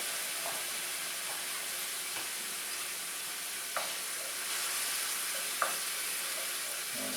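White wine poured into a hot pan of asparagus sauce for pasta sets off a steady, even sizzle and hiss, loud and continuous throughout, with a few faint clicks and taps over it and no talking.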